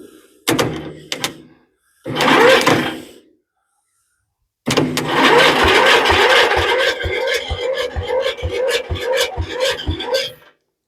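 An engine on a jump starter cranks over: two short cranking bursts, a pause, then a long, steady rhythmic churning that keeps turning for several seconds without catching.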